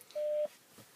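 A single short dialing tone plays through a Mitsubishi car's Bluetooth phone system, a steady beep lasting about a third of a second, faint and alone in a quiet cabin.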